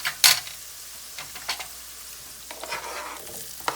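Onion goes into a frying pan alongside eggs for a frittata, a close sizzle with a sharp hiss at the start and scattered scraping stirs after it.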